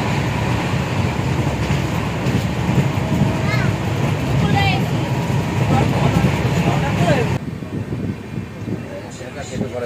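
A passenger train rolls along from inside the Padatik Express bound for Darjeeling. Its steady rumbling drone sits under lively chatter from people nearby, then drops to a quieter hum partway through.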